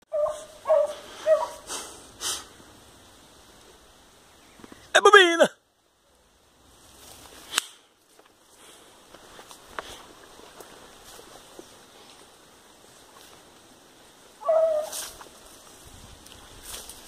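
During a paca hunt in a cane field, hunting dogs give a few scattered, distant barks and yips with long quiet gaps between them, and a short burst of voice is heard partway through.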